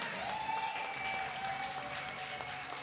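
A crowd at a domino tournament claps steadily, a dense patter of applause that carries on evenly throughout.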